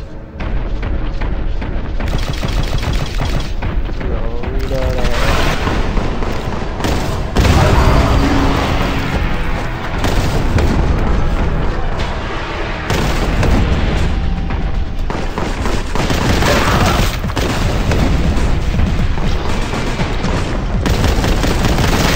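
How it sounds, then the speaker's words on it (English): Explosions and gunfire in the video game Warhammer 40k Boltgun: loud, dense bursts of rapid shots and heavy booms, pounding almost continuously with brief drops between volleys. "Big ass explosion."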